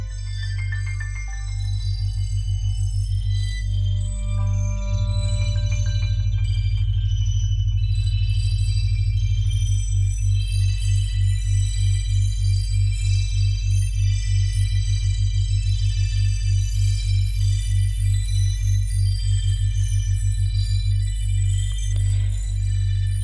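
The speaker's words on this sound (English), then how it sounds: "what you're hearing is these high piano sounds" High piano notes recorded and sped up by software, heard as rapid glittering pitched tones over a constant deep droning bed, with a fast regular pulsing pattern running through most of the passage and no speech.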